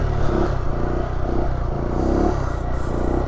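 A Honda Grom motorcycle engine idles at a raised idle close by, a steady low, throbbing putter with a slight clatter that holds an even pace throughout.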